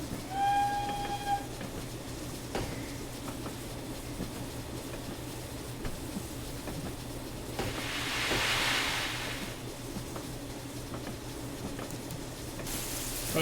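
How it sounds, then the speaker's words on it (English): A model Dean Goods steam locomotive gives a short, clear whistle at the start, then its running noise rumbles on steadily for the rest of the stretch, with a brief hiss later. No voices are heard. "I love the whistles."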